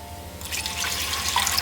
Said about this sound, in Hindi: अब मैं थोड़ा सा पानी डालने लगी हूँ।